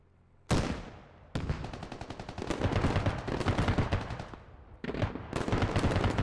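A BMP armoured vehicle's cannon and guns fire in the military shooter Squad, loud sustained bursts of rapid automatic gunfire with short pauses, sounding close and heavy throughout.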